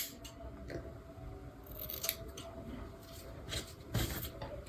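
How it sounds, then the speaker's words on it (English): Scissors snip steadily through relaxed hair while a bob is cut, close and fairly quiet, with a soft repeated crisp rhythm over low background hum. "Oh yeah, we're cutting the bob."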